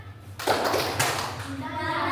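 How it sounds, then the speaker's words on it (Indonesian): Classroom of students doing a rhythmic spirit clap in a lesson, a burst of quick, close handclaps starting partway through and blending into voices, with children audible alongside. "tepuk semangat"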